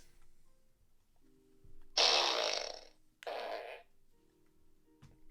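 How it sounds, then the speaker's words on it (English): Two loud, close farts in a row, the first long and raspy and the second shorter, with only quiet room noise around them. "fart."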